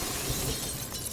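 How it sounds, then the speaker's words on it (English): A glass window shatters in a loud, dense burst of breaking glass with scattering fragments, a brief violent crash with no voices. "I heard the shattering of glass from the cabin behind"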